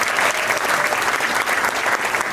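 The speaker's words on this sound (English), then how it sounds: "Please join me in a round of applause to thank them." A round of applause from the gathered crowd at a memorial celebration, loud and close, with steady, dense clapping that carries through the whole stretch without a break.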